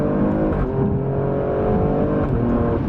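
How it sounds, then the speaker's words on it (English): An Alfa Romeo Stelvio Quadrifoglio engine pulls hard while accelerating onto a highway, a loud, steady, rising roar with no break, heard from inside the car. "we're going to do some accelerations onto the highway here"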